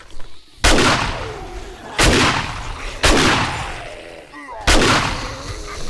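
Four heavy shotgun blasts from the War Of The Walkers video game ring out one at a time, each loud crack trailing off in a short echo before the next.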